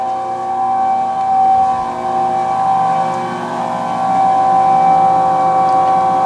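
A NordicTrack Commercial 2950 treadmill's incline motor whines continuously while lifting the deck, a close, steady tonal drone that rises and falls gently in loudness, with no voices.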